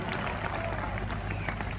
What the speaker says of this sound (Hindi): एक मरतबा तालियां हो जाए फिर दोस्तों